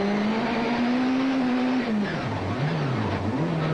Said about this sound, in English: You can hear him real smooth as he works his way up through the gears.